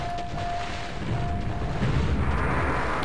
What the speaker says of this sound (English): So many explosions! It pisses me off.